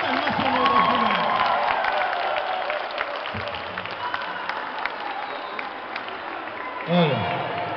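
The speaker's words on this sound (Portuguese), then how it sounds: "eu quero uma salva de palmas" An audience claps at an International Women's Day event, a dense burst of applause with scattered shouts and voices throughout and a short louder cry near the end.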